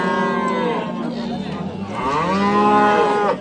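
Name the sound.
Swedish breed cow mooing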